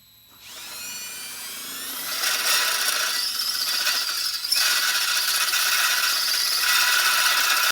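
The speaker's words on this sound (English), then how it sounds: "The little cut end on this side and our seat on this side, and we drill it out." A drill bores out a steel brake line clamped in a vise, starting after a brief quiet moment and grinding steadily with a high, rasping whine that holds close and loud to the end.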